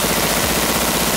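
Rapid M4 rifle gunfire at an outdoor shooting outing, a dense, continuous burst of loud close shots with heavy low-end blast filling the whole moment, no voices over it.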